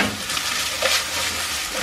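Onions sizzle and char in a hot pan while pulled pork is being cooked, a steady close crackling fry with a faint stir or scrape near the middle, no voices.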